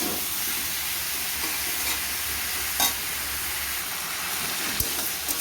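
Chopped bottle gourd fries in an open pan, giving a steady soft sizzle and hiss with a few faint clinks of stirring.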